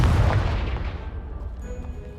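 A Confringo blasting spell explodes in the Hogwarts Legacy video game as a loud, booming blast. Its deep rumble fades over about two seconds, and a faint tonal shimmer rises near the end.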